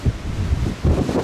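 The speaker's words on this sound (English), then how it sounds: "It's cold, and as you can tell, very windy." Strong, cold wind buffets the microphone on a high mountain trail in Rocky Mountain National Park, Colorado, as a loud, gusting low roar in pulses.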